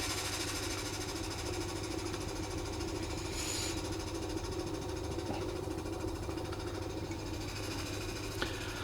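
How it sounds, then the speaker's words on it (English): A vacuum pump hums steadily while pumping on liquid nitrogen in a physics demonstration, a constant mechanical drone with low-pitched throb and faint ticks, running unbroken throughout. "connect up the vacuum pump so that we'll remove molecules from the liquid a lot faster"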